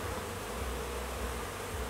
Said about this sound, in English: So, first box has some bees.